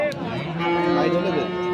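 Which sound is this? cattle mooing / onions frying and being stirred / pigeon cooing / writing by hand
cattle mooing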